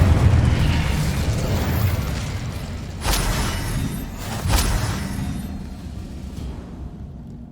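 The Incendio fire spell blasts in Hogwarts Legacy as a loud roaring burst that fades. Two sharper cracks follow a few seconds apart, then everything tails off into quiet.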